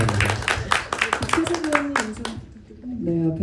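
An audience claps at a film Q&A screening event at a Seoul cinema, giving a burst of scattered hand claps early on that thin out while people keep talking over it.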